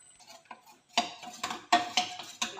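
A spoon stirs custard powder in a bowl for a mango ice cream as milk is added, several sharp clinks and scrapes against the dish, close and fairly quiet, irregularly spaced.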